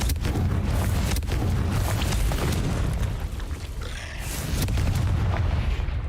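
Confringo spell blasts in Hogwarts Legacy, fired inside a cave, give several loud booming explosions with sharp onsets over a heavy low rumble. One brief lull comes before the blasts resume.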